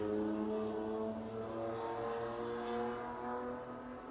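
A loud car drives down the street outside, its steady engine hum holding continuously throughout with a low rumbling drone and no voices.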